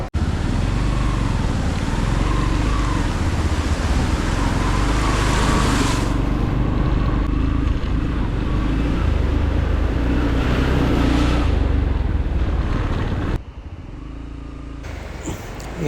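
Motorcycle ride through a coffee plantation on a solo trip to Nelliyampathi: a steady, loud engine drone with heavy wind rush throughout, a brief easing of the engine near the end, and no talk.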